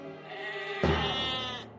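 A sheep gives one drawn-out, wavering bleat, close and clear, with a soft thump partway through.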